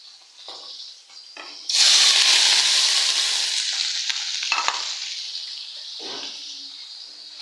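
Bottle gourd curry with shrimp, onion and green chilli starts cooking in a pan: a few quiet clinks, then a sudden loud hiss of sizzling that slowly settles into steady frying, without voices.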